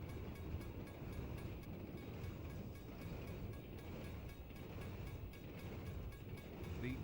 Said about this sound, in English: The unmistakable sound of an Australian, American, Canadian, South African, or even Indian train